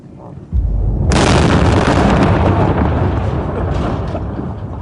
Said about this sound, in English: The Marines carry on as they started, laying down rockets to clear Pharmacy Road of IEDs.